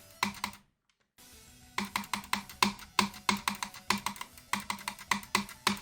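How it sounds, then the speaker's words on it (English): Rapid clicks tap out a rhythmic pattern for the Swingcopter in Geometry Dash, crisp and close, with a brief silent gap near the start before steady bursts resume. "Once you enter the Swingcopter, you want to click like this, 1, 1, 2, 3."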